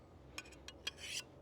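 A hunting knife being sharpened while butchering deer, heard as a few quiet, short scraping strokes of the blade, then a slightly longer rasp, close and faint.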